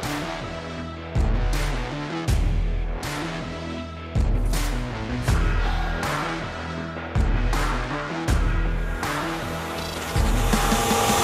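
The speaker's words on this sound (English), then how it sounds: "I found using the corner of the belt on the grinder is a great way of tightening up this transition" A 2x48 belt grinder grinds a steel stiletto blade in repeated passes, each a loud, rough rasping roar of several seconds, broken by brief pauses as the blade is lifted and pressed back against the belt.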